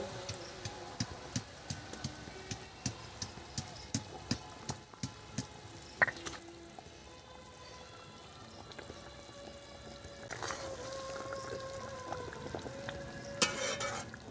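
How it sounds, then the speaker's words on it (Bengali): Fish, pomfret and chanda, go into a boiling mustard-poppy curry sauce, a low bubbling simmer with a run of regular taps early on and a sharper sizzle near the end. "ঝোল ফুটে গেছে কমপ্লিট মাছগুলো এখন আমি দিয়ে দিচ্ছি"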